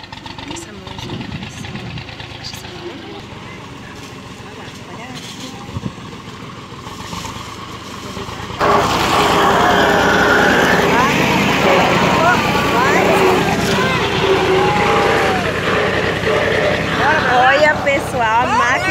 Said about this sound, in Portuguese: Hoje eu vou mostrar para vocês como é feito o feijão batido na máquina, no trator, né?